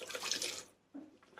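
Water runs from a kitchen tap into a bowl of bread pudding mix, a soft hissing splash that stops partway, then returns in short quiet spurts.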